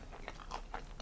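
Close, quiet chewing with moist mouth and lip sounds, several soft bites in quick succession over about a second, heard alone without speech.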